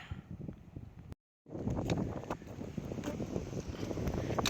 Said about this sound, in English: Kind of windy walking along.